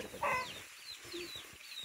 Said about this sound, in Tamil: நம்ம கோழி கொல்றமே இது பாவம் இல்லையா?